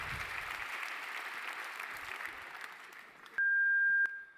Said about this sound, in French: On vous applaudit, on vous remercie